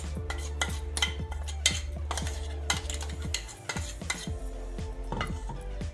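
A spoon stirs a ground paste into cooked potatoes for a Tamil potato curd pachadi, scraping and clinking against the pot in a steady rhythm over a low background hum.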